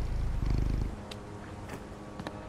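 In the video game Concrete Genie, a petted cat gives a close, low, rolling purr for about a second, then drops to a quieter background hum with light scattered clicks.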